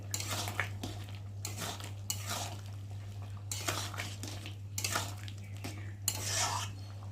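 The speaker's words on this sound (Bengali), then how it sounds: "চিংড়িটা দিয়ে একটু ভালো করে নেড়ে দেবো" Prawns stirred into a simmering curry in a metal pot, a spoon scraping and clinking against the sides in several separate bursts over a steady low hum, close by with no talking.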